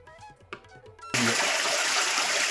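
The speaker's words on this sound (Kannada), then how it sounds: "ಯಾವ ರೀತಿ ನೀರು ಹರಿತಾ ಇದೆ ಅಂತೇಳಿ ಈ ನೀರೆಲ್ಲ ಬಂದು ಅಲ್ಲಿ ಶೇಖರಣೆ ಆಗುತ್ತೆ" At the Gavisiddeswara temple, water flows in a loud, steady rush that begins abruptly after a second of quieter sound and then holds close and continuous.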